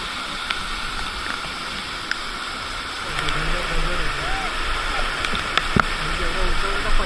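A forceful waterfall pours red, muddy water down a high rappelling drop, giving a steady broadband rush that swells slightly louder midway, with voices talking over it.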